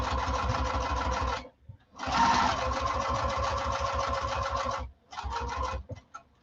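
Close up, a sewing machine stitches in fast, even bursts with a regular rapid needle rhythm, stopping briefly twice between runs.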